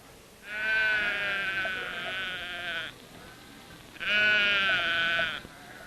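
Two long, loud sheep bleats in a 1957 TV sleep-aid commercial, each a wavering, strongly harmonic cry lasting over two seconds, separated by a brief pause, with no talk over them.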